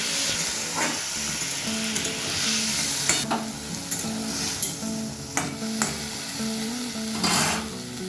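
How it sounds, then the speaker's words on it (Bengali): Salted potatoes being mixed in a frying pan, a steady sizzle with repeated scraping spoon strokes against the pan, close and continuous with no talking. "এবার নুন মাখানো আলুগুলো দিয়ে দিচ্ছি। সবটাকে খুব ভালোভাবে মিশিয়ে নিলাম।"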